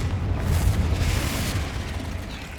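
The Confringo explosive spell in Hogwarts Legacy lands as a single heavy, rumbling blast with a crackling burst that stays loud before tapering off.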